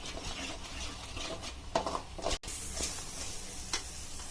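Mutton liver frying in a pan with turmeric powder, a steady close sizzle with occasional stirring scrapes and ticks, no talking.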